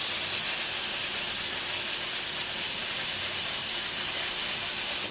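An HVLP spray gun sprays glaze onto a turning pottery piece, a steady, loud airy hiss holding evenly for about five seconds before cutting off abruptly.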